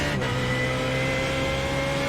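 Walkenhorst Motorsport race car accelerating on the Nürburgring Nordschleife, heard onboard as a loud, sustained engine note that climbs steadily in pitch with no pause.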